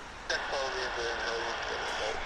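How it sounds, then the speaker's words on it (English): A jet airliner climbs away from Vancouver International Airport in fog, its engine roar a steady, distant broadband rumble with a faint whine, while people talk over it. "The aircraft is up."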